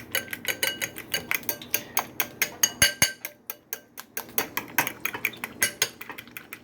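Utensil scraping and clinking against a pan as diced turkey, onion and tomato are stirred into an egg mixture, a steady series of close, sharp metallic strokes in quick rhythm with no talk.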